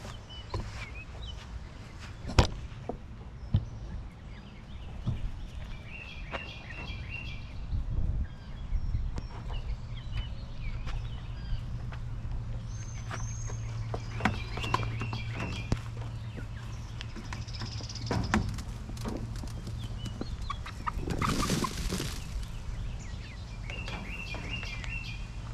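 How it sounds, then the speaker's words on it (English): Half-grown chicks being fed, their soft chirps and peeps scattered through a continuous outdoor hum, with occasional light footsteps and rustles nearby. "let's go ahead and feed the baby chicks"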